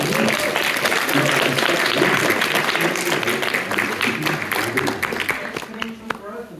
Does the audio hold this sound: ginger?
no